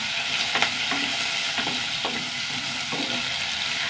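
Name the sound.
okra being sautéed in pan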